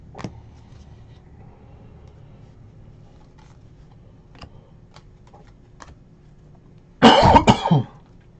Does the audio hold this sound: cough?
yes